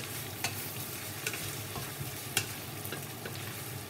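Ingredients for kare-kare sautéing in a pan as a soft, continuous sizzle, with a few light stirring clicks and scrapes scattered through it and no voices.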